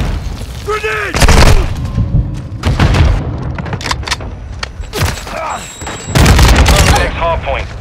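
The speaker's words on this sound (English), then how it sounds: "Grenade!" Heavy explosions and gunfire booms in a Call of Duty: Modern Warfare II Hardpoint match on the El Asilo map, several loud low thuds spread across the clip among shots, with game voice callouts over them.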